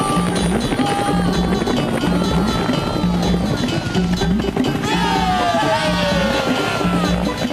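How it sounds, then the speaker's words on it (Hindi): A helicopter's rotor thumps rhythmically and loudly amid busy background noise, with a whining turbine tone sweeping across. "वो हेलीकॉप्टर इधर ही आ रहा है।"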